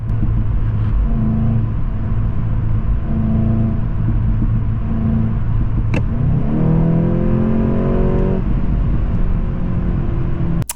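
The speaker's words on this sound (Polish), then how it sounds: "w kabinie też słychać wydech" A Volkswagen Golf GTI 8.5 2.0 TSI engine with DSG7 gearbox drones steadily with a throaty exhaust note, then revs upward with rising tones partway through, continuous and loud throughout.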